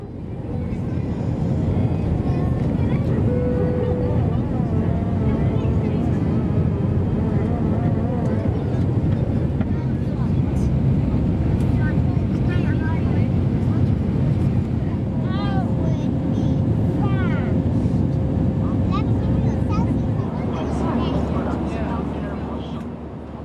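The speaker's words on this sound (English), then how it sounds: "Then it was time to board a smaller plane and take off on our way to Edinburgh." Small passenger plane taking off from Finland bound for Edinburgh, heard as a loud, steady engine roar and rushing drone that holds evenly from start to finish.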